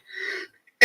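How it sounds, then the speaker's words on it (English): A woman coughs and clears her throat close by, one rough burst of throat noise followed by a short pause, then a sharper, louder cough right at the end, with no talking. "I have got an awful cough"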